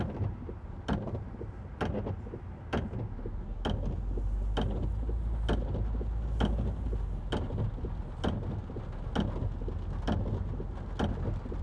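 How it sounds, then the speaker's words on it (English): Steady rain hisses and patters through a thunderstorm, with a low rumble rising in the middle and frequent sharp knocks and taps recurring throughout, fairly close and with no voices. "The rain just makes it worse."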